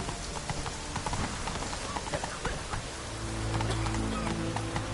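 Roach, a horse in a video game, clip-clops along with steady, close hoof strikes in a quick rhythm, the clopping running throughout with a low droning tone joining near the end.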